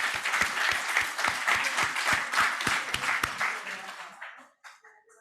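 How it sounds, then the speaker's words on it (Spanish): An audience applauds a speaker at a conference on wills, inheritance and taxes: dense, steady clapping from many hands that holds for about four seconds, then thins out and stops. "vamos a darle un fuerte aplauso"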